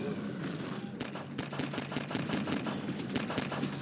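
Weapons fire rapidly in Half-Life 2: Episode Two, a dense run of sharp, evenly spaced shots rattling steadily over a low background rumble.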